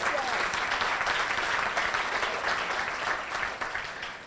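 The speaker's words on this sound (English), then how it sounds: "Applause for if you agree." Sustained applause from a large audience at a Making Strides Against Breast Cancer fundraising kickoff, a dense, steady wash of many hands that holds loud throughout and tapers slightly at the end.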